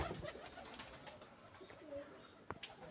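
Pet pigeons coo softly in a village setting, a few low rolling coos heard near but faint against quiet background sounds.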